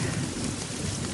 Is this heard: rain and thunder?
yes